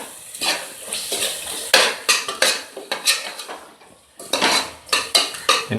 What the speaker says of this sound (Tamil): மஞ்சள் பொடி சேர்த்து நல்லா கிண்டி விடுவோம்.